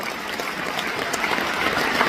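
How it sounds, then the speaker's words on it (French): Audience applause at a live talk event in Cameroon, a steady dense wash of clapping from a crowd, fairly loud and unbroken with no voices over it. "Est-ce qu'on peut applaudir plus fort cette grande belle histoire?"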